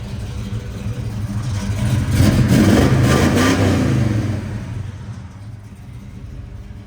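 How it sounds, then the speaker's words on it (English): A 1968 Chevrolet Chevelle 396 convertible's V8 is revved once, rumbling up from idle to a swelling roar and then settling back to a steady idle close by, with no talk. "Let me hit that throttle once or twice."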